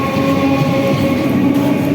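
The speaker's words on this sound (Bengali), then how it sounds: "ট্রেন ছেড়ে চলে গেল ওই ট্রেন চলে যাচ্ছে" A train rumbles loudly nearby with a steady metallic drone and faint clatter of wheels on the rails as it pulls away from the station.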